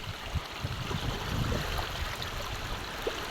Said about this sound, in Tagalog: Malakas po ang silig ng agos at si Kuya po yung nadadala.